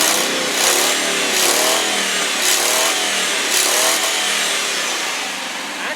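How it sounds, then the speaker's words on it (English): A well-used 2000 Ford F-150 extended-cab pickup with a 4.6 liter V8 is revved up in several rising surges, loud and close, with no voices. "Let me rev it up for you."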